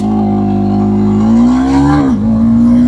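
A TVS Apache RTX300 300cc motorcycle launches hard with a quick shifter. The engine note is loud and close, climbing steadily, then dips briefly at a quick upshift before pulling again.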